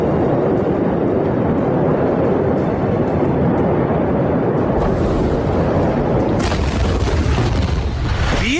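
Footage of the Beirut port explosion, a loud continuous roaring blast wave filling the whole clip, with a rushing, rumbling surge that shifts in texture toward the end.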